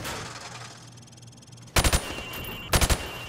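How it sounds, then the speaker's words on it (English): Two quick three-round bursts of gunfire shooting at targets through plywood on a firing range in Modern Warfare Remastered, loud and close, separated by a second of quiet ambience. "I want you to shoot the targets through the wood."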